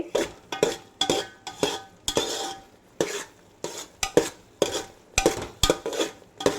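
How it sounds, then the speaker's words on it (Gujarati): Gram flour mixture for mohanthal roasting in ghee and stirred steadily, a quick run of about a dozen scraping strokes against the pan, close and fairly loud, with a faint sizzle between strokes and no talk. "બદામી રંગનો થાય ત્યાં સુધી આપણે એને શેકવાનો છે"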